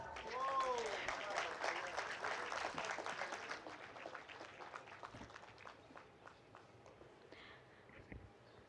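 Applause from a conference audience at an Islamic economics and finance conference, loud clapping at first that thins and fades over several seconds, with a voice briefly heard near the start.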